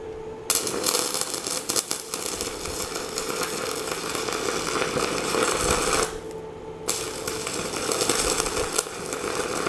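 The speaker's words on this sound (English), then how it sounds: "I think it's safe to say I'm not a great stick welder, but I can put metal together." Stick welding on scrap metal with a Sefaspe MMA205SE MMA welder: a steady, loud crackling buzz that runs nearly continuously, broken by a brief pause midway before the arc restarts.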